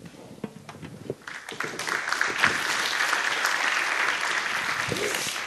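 A church congregation breaks into applause, starting with a few scattered claps and quickly swelling into a dense, steady wash of clapping that fills the room and holds at full strength.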